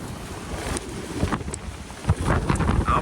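Strong wind buffets a microphone on an Appalachian mountain trail at Devil's Fork Gap, a continuous loud rushing roar with gusty swells and rumbling low-end thumps, no voices.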